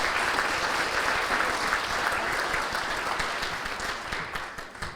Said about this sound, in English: Let's go ahead and give them a round of applause as they come.